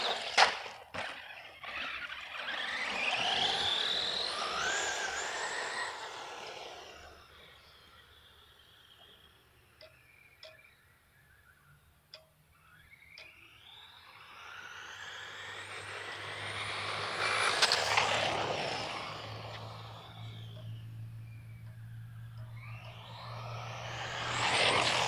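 An Arrma Blackout XTE RC car on a 3S lipo battery, its electric motor whining up in two long throttle bursts that rise and fall in pitch, with quieter gaps between passes and a third burst starting at the end.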